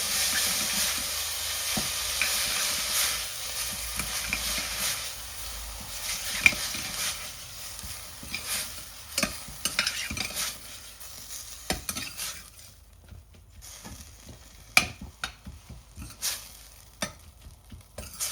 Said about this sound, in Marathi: आता मी टाकणार आहे पालक, जे मी चांगलं अशी वॉश करून चॉप केलेलं आहे छोटे छोटे. ह्यालाही चांगलं मिक्स करून घेऊया.